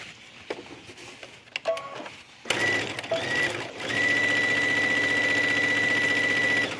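A sewing machine sews down a seam on a tunic, starting after a few quiet clicks and handling sounds, then running with a steady, close whir that pauses briefly before continuing to the end.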